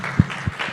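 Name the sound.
audience applause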